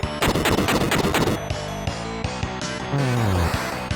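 Rapid bomb and explosion effects from turn-based combat in the SNES-era video game Final Fantasy Mystic Quest, a dense burst of sharp blasts in quick succession followed by sparser hits and a descending tone, loud with no talking.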